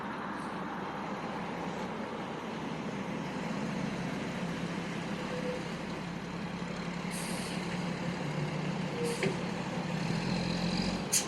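Heavy trucks rumbling through Main Street in town traffic, a steady low engine drone with air brake hisses near the end, continuous and fairly close with no talking.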